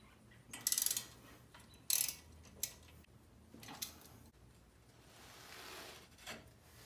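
A ratchet works loose the brake rotors and calipers on a Jeep Wrangler TJ, giving a few loud bursts of clicking with quieter metallic handling and clanks between them, close by in a garage.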